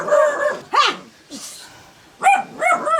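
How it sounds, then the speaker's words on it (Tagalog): Several dogs bark in bursts, with a pause in the middle and two more sharp barks near the end, fairly close by. "Daming aso?"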